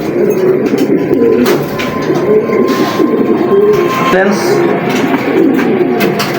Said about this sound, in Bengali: খুবই সুন্দর ব্যালেন্সের কবুতর।